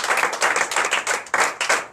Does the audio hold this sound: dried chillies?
no